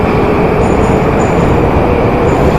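A Moscow metro subway train rumbles loudly and steadily, a dense continuous roar of wheels and carriage noise filling the whole clip with no break.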